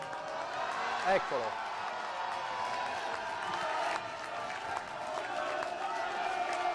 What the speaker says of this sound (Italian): Il boato dei tifosi mentre arrivavano le ragazze